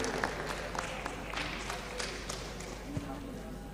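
An audience at an Indonesian higher-education coordination meeting claps for the moderator, a steady dense patter of applause filling the room, moderate in level and continuing throughout.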